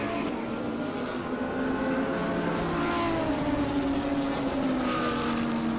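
Race cars lapping a circuit at a regional motorsport festival, continuous engine drone with rising and falling pitch as several cars pass, no talk.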